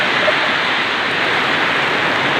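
Heavy rain pouring down in a steady, loud, dense hiss that stays even from start to finish, with no talk over it.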